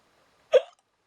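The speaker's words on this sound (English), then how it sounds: "I suppose I should just try and talk through the hiccups." A single sharp hiccup, close and fairly loud, stands alone in an otherwise quiet room.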